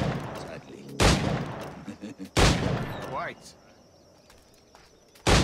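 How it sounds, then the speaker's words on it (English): Pistol gunshots from the Assassin's Creed IV video game ring out, three sharp loud bangs spaced a second or more apart. A voice says a few words between the shots. "That's the sound of my gun."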